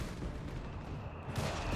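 Gunfire and artillery explosions in the real-time strategy video game Company of Heroes 3, a dense barrage of shots and booms heard alone, with a sharp brighter burst near the end.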